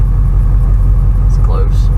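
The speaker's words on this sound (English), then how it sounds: "And here comes the car" A car passing on a street gives a loud, steady low engine rumble that dominates throughout, with people talking nearby over it.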